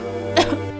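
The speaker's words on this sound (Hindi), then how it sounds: "तुम्हें तो बहुत खांसी आ रही है।" A single short, harsh cough bursts out over a quiet background, followed by a brief second cough at the very end.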